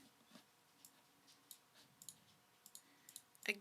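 Computer mouse clicks in Photoshop, a scattering of small, faint, quick clicks at irregular intervals, close to the microphone in a quiet room, ending with one sharper, louder click.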